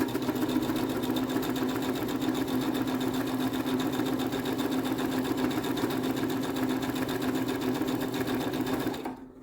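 A sewing machine stitches steadily in one long, unbroken run with a constant whirring hum and rapid needle chatter, close up, stopping abruptly at the end.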